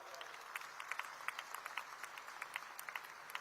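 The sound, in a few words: crowd applauding at a police passing out parade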